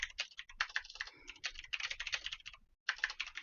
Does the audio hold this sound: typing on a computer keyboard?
yes